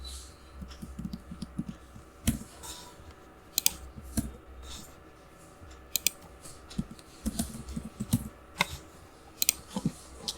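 Python code is typed on a computer keyboard, a fast, uneven patter of close key clicks with occasional sharper taps and brief pauses, alone without talk.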